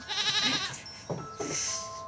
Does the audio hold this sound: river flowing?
no